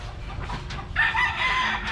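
A rooster crows from a short distance in a rural Philippine setting, one drawn-out call rising over a rough, noisy outdoor background.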